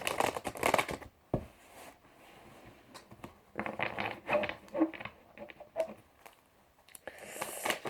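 Tarot cards shuffled for a draw make close, papery riffling bursts in quick repeated flurries, with short quiet pauses between them.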